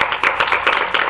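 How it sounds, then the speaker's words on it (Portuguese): A church congregation claps together in praise of Jesus Christ: a dense, steady patter of many hands, loud and close, swelling in rhythmic pulses with no talking. "Dá uma salva de palmas para Jesus Cristo."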